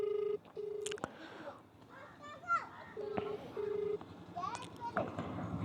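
A phone call rings out unanswered, with a repeating ringback tone in paired bursts heard through the handset while people and children talk nearby.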